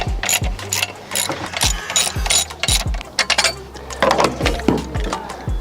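Quick ratchet clicks working loose boot clamp bolts on a 6.0L Powerstroke intercooler pipe, repeated bursts of sharp metallic pawl clicks in uneven runs, close and loud.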